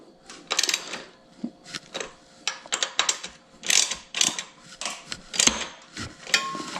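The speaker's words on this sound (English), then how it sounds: "I'm going to squeeze the brake and then I'm going to tighten these bolts up" Hydraulic brake caliper bolts being tightened by hand on a Pedego Element e-bike, a series of quick ratcheting clicks in short bursts with pauses between, close and clear, no talk.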